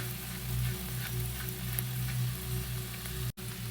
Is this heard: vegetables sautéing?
yes